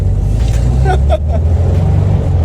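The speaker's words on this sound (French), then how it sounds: "Et il marche bien ton moteur." A Volkswagen Beetle 1302 engine runs steadily close by, a low continuous rumble, with a brief voice over it.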